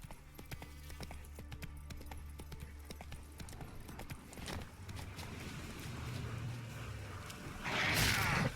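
Roach the horse from The Witcher 3 trots along with steady, close clip-clop hoofbeats, the rhythm easing toward the end before a brief burst of louder noise.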